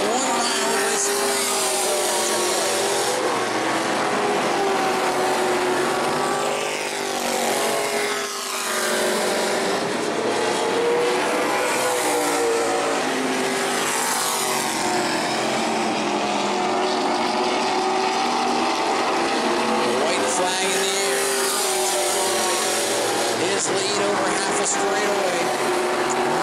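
E-Mod race car engines at New Smyrna scream and drone continuously, their pitch climbing and dropping as the cars rush past, loud and sustained throughout.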